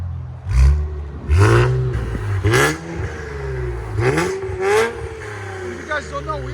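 Infiniti Q60 with a 3.0L twin turbo V6 and exhaust valves open, blipped through a series of sharp, loud revs that climb and drop quickly, close up, with a voice speaking in between.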